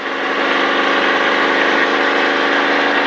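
A NASCAR stock car engine roars loud and close while accelerating on track, a continuous droning growl that holds steady for the whole stretch.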